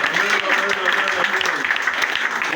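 A church congregation at a French-language prayer service applauds, dense continuous clapping that fills the room, loud and close, with voices mixed in throughout.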